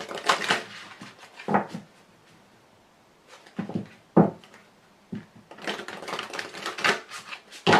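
Very large cards are shuffled by hand in bursts of papery riffling and slapping, loud and close, with a quiet pause midway.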